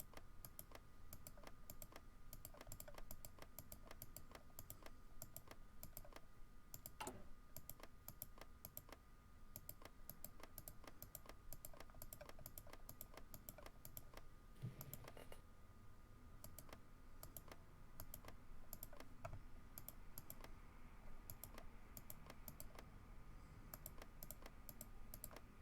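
Steady computer keyboard typing and mouse clicking while playing Hearts of Iron 4, a continuous run of quiet, close taps and clicks over low background hum, with no voices.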